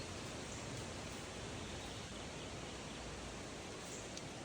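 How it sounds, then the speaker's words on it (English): Wind blows steadily through the woods as a faint, even rushing wash with no talk and no distinct gusts. "Getting windier now."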